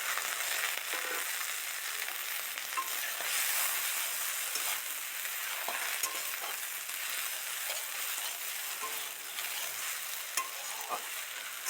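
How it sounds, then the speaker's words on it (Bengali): Mutton sizzling and frying in a pan as it is stirred, a constant bright crackle with scattered spatula scrapes and small pops, steady and close throughout. "ওই মাংসটাকে ভালো করে কষাবো খাসির মাংস একটু বেশি টাইম নিয়ে কষাতে হয়"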